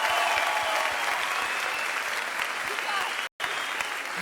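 A studio audience at a Turkish comedy show applauds loudly and steadily throughout, a dense wash of clapping with one brief dropout near the end.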